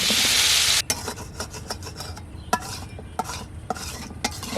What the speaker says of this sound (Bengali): মাছ ভাজা কড়াইতে আলুটা দিয়ে দিলাম